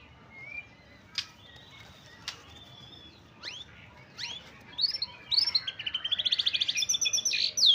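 A white-rumped shama (murai batu) sings a varied series of clear whistles and chirps, building into a rapid, rhythmic trill toward the end, close and fairly loud.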